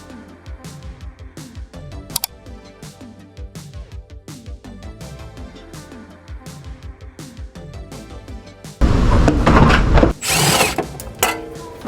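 Power tool spinning out bolts on a damaged section of a BMW M3 E36 during restoration: repeated short whirring bursts with clicks and ratchet taps, close up, ending in a louder, broader rush of noise.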